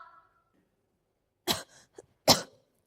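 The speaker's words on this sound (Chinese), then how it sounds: "没听到我咳嗽？" Two sharp, close coughs break a quiet room, with a short throaty rasp between them.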